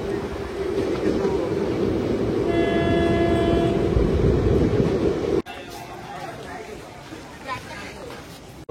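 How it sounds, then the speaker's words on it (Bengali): A Nimtita–Katwa passenger train pulls out of Salar station, West Bengal, its horn blaring over a loud rumbling run that cuts off abruptly to quieter platform ambience with voices. "সালার স্টেশন থেকে এখন ছেড়ে দিল নিমতেতা কাটোয়া প্যাসেঞ্জার।"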